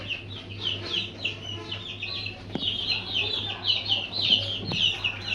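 Seven-day-old fancy chicken chicks peep in a busy, continuous high chorus of overlapping chirps, heard close, with a low steady hum beneath and a couple of faint knocks.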